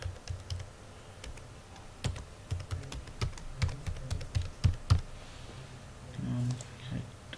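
Password typed on a computer keyboard, a quiet irregular run of separate key clicks at close range with a few louder taps, then a faint low voice near the end.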